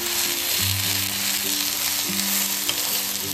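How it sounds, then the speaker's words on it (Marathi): A moong dal dosa loaded with vegetables sizzles steadily on a hot pan as it is flipped and pressed down, a continuous close hiss with a few soft thuds and scrapes from the turner. "आता ह्याला दुसऱ्या बाजूने सुद्धा पलटून घ्यायचे, थोडंसं प्रेस करून आपल्याला त्याला शिजून घ्यायचे"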